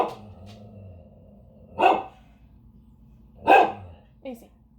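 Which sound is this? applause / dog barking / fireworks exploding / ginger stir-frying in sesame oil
dog barking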